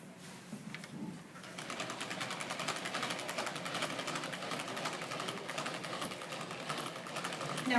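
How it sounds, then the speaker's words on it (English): Rocky road pie filling being whipped: a continuous buzzing whir with a fast pulsing texture, fairly close and steady throughout. "Now we're going to go ahead and let you start whipping."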